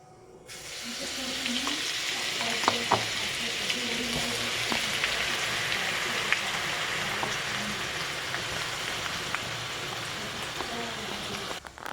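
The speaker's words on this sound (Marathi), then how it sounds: "आता हे टाकल्यानंतर याला तेलमध्ये चांगलं फ्राय करून घ्यायचं, कच्च्या लसणाचा वास निघून जाईपर्यंत" Garlic and green chili paste fries in oil with cumin seeds, giving a steady rain-like sizzle with scattered pops and crackles that holds for about eleven seconds.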